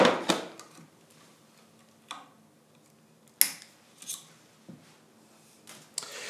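Tennis racket string being snipped with cutting pliers after stringing, several sharp, close clicks and snips separated by quiet gaps, with no talking.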